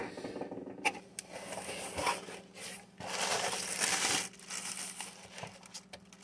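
Plastic and paper packaging for a CD and book set being cut open, giving a steady run of crinkling, rustling and snipping sounds at close range with no talking.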